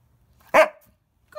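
A trained dog gives a single sharp, loud bark on command, close to the listener, against near silence. A faint start of a second sound follows a moment later.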